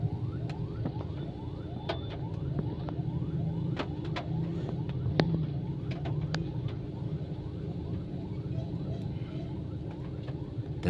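Street traffic in the Philippines, with a steady wash of engine noise and repeated sharp horn-like or siren-like chirps cutting through, constant and moderately loud, with no clear speech.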